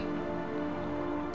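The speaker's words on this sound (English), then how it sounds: "Maybe it's because it's raining all the time." Steady rain falls throughout a scene in the video game Heavy Rain, a continuous even hiss with a brief brighter splash near the end.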